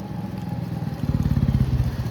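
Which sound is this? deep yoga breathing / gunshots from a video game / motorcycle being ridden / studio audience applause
motorcycle being ridden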